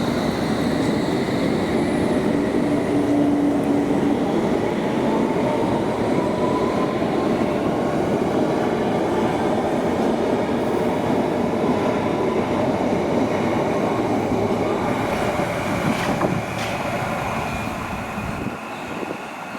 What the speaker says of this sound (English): And here's the train for Aldgate leaving.